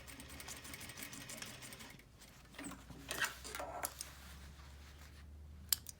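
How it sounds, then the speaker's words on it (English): A sewing machine stitches through the pleats of a single-layer fabric face mask, a quiet, rapid mechanical ticking that comes in short bursts with brief pauses, no voices present. "So I'm sewing through all these pleats with about a 5/8 inch seam allowance."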